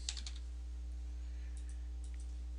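Brief clicks from a computer keyboard as an address is typed in, a quick cluster of keystrokes at the start followed by a few sparse, faint taps over a low steady hum.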